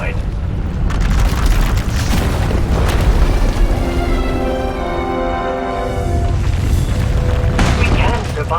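A deep, rumbling explosion from a power eruption tearing through an asylum in the Jedi Knight game, a sustained roar with bursts and crackling swells, loud throughout, with a voice speaking over the middle stretch.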